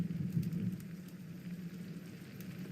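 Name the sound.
rain in video game Secret Files: Tunguska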